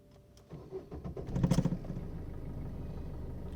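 A car engine cranks and catches, a short loud burst of starter and ignition that settles into a steady idle rumble, close by with no talking.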